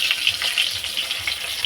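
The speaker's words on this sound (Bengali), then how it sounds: "এই যে মাছ ভাজা হচ্ছে" Fish sizzles as it fries in hot oil, a soft, steady crackle with faint bubbling pops, fairly quiet and close, with no voices.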